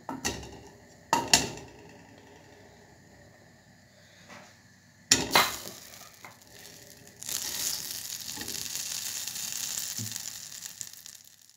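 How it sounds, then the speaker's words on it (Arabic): Two spoonfuls of butter sizzle and crackle softly as they melt in a saucepan, with a few clinks from a utensil against the pot, and the sizzle grows steadier toward the end. "كندير جوج معالق ديال الزبده يذوبوا"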